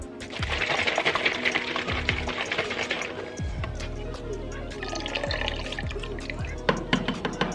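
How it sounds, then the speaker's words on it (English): Black RIT synthetic dye is added to water, producing close splashing, gurgling and dripping liquid sounds with small bubbling bursts throughout. "I'm going to go ahead and add this to the water"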